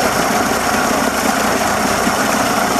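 A Mercury 60 hp outboard motor idles at about 600 RPM, a steady, loud, close mechanical drone with an even low rumble and no talking over it.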